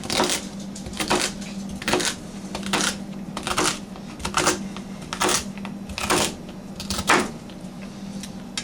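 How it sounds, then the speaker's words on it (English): Celery rough-chopped with a knife on a cutting board, a string of sharp, fairly loud chops at an irregular rhythm, about a dozen strikes, close up with no talking. "Now with the celery, I'm going to cut it right down the center, just like so. And I'm just going to rough chop it again."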